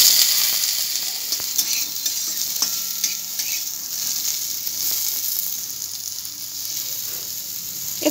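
Crushed hard raw hog plum fries in oil in a pan, a dense, even, close sizzle with faint scattered crackles and stirring that holds steady for several seconds.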